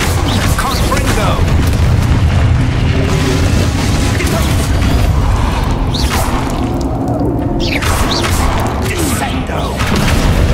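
A Confringo blasting spell is cast in Hogwarts Legacy, and loud, dense booms and whooshing blasts roll over continuous game action noise without a pause.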